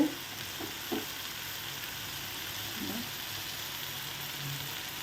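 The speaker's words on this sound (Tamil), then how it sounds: "இஞ்சி பூண்டு பேஸ்ட் போடும்போது நம்ம கிண்டிகிட்டே இருக்கணும்" Ginger garlic paste frying in a pan, a constant even sizzle with a few quiet knocks of a stirring spoon at the start and in the middle.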